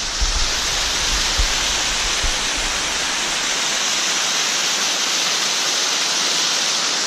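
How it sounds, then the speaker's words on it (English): Waterfall on Mount Moosilauke in New Hampshire, a steady broadband rush of falling water that stays loud and even throughout, with no voices over it. "Cool waterfall."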